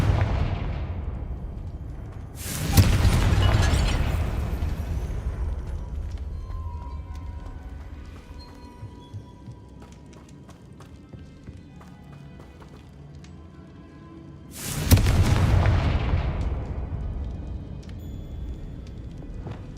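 Two big blasts in Hogwarts Legacy, the Confringo fire spell, about twelve seconds apart, each a sharp broadband burst that rolls off into a long rumbling tail over a low steady game backdrop.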